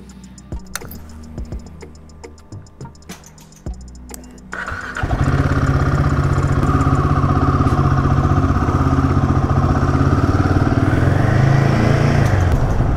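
Royal Enfield Himalayan 450 motorcycle engine cranking and starting after some ticking and clicking, then settling into a loud, steady, close idle rumble that holds to the end.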